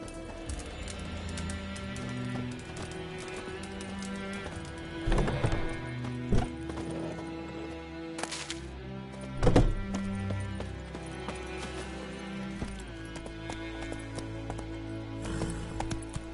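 Hooves of a horse clip-clop steadily in a video game, with a couple of neighs and whinnies standing out over the rhythmic footfalls.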